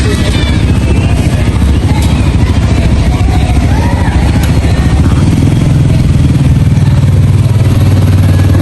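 A motorcycle engine runs loud and close at a school entrance during a road safety demonstration, a steady rumbling drone that settles into a lower idle toward the end.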